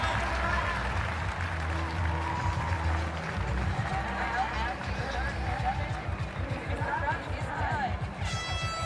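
A crowd at the CrossFit Games cheers and applauds athletes, a steady roar of clapping and crowd noise running the whole time beneath a commentator's continuous talk.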